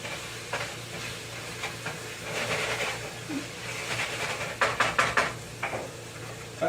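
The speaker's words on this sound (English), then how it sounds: "Let me stir that meat again real quick." Meat being stirred in a frying pan for homemade pizza sauce, a steady broadband sizzle with scraping and a few sharp knocks of the utensil against the pan near the end.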